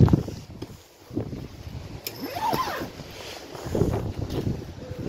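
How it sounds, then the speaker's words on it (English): Gusty wind buffeting the microphone outdoors, rising and falling in rough rumbling bursts, with a faint whistling tone drifting through. "It's a bit windy."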